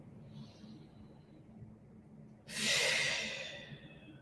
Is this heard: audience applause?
no